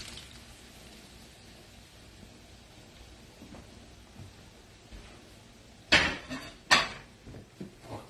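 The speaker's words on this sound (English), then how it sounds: "let's go to put the shrimp scallops back in" Shrimp and scallops dropped back into a pan on a gas stove make a couple of sharp clattering splashes near the end, above a low background hum.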